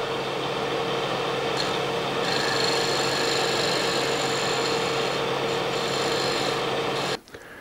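A woodturning tool cuts a cove into a wooden mortar spinning on a lathe, giving a steady, loud scraping hiss with a constant motor hum beneath it, running without a break until it stops abruptly near the end.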